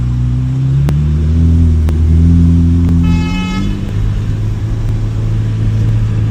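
A car drives steadily, its engine droning loudly with a low, constant rush as the windows are rolled down, and a brief horn-like tone sounds partway through.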